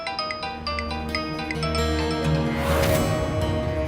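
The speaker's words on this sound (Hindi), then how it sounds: "राज का फोन।" A mobile phone rings with a repeating electronic melody, loud and close, over a swelling musical background in a Hindi TV drama.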